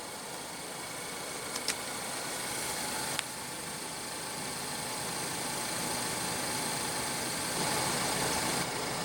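A 2016 Ford Focus with a 2.0 L four-cylinder engine idles steadily at moderate distance, a constant smooth hum with faint clicks and a small rise near the end, with no talk.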